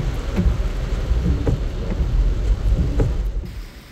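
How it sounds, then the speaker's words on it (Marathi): Heavy rain falling steadily during a downpour, with low rumbles of thunder rolling through it; dense and fairly loud, no voices. "त्यातच जोरदार पाऊस सुरू झाला आहे"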